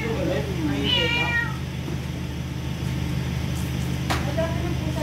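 Cats meow a few times close by on a street where people are feeding strays, one meow standing out clearly over steady background hum, with people talking around it.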